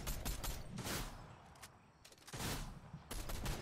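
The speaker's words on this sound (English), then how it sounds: "Somebody else was shooting at me, what the fuck?" Gunfire in the video game Fortnite, rapid bursts of shots in close clusters with a brief lull in the middle before more firing resumes.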